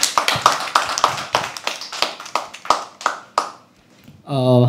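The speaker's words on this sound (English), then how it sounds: "Clap till he comes on stage." Audience at a live poetry open mic clapping for a poet coming on stage: a run of sharp, rhythmic claps that slows and fades, followed by the start of a voice.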